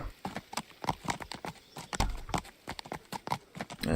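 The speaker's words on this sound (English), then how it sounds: "And now we take our horsey for that, and now we go backwards." A horse's hooves clip-clop in the video game Kingdom Come Deliverance, a brisk, steady rhythm of sharp, close hoofbeats on hard ground, heard alone.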